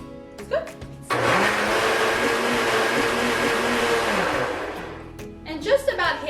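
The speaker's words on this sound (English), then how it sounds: "let's start the blender again" A close, loud blender whirs through a mango and fruit yogurt mixture in one continuous run of about four seconds. Its pitch wavers as the contents churn, and brief talk is heard before and after it.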